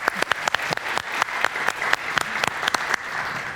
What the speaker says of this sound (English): Give her a little clap.